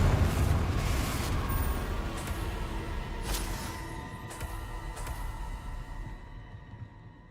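Booming blasts from the Confringo spell in Hogwarts Legacy, a loud eruption at the start with further bursts around the middle, trailing into a rumbling, fading wash.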